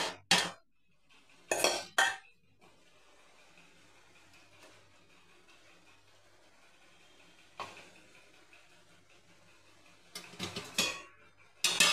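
Leftover chicken goes into cooked masoor lentils in a home kitchen pot, heard as a few sharp metal clinks and clatters of utensil against pot at the start, around two seconds and near the end, with quiet between.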